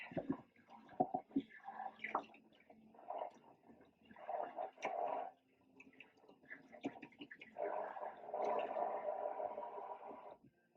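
A shaving brush is rinsed under running water, giving faint, uneven gurgling and splashing swells with short pauses between them, close by and without talk.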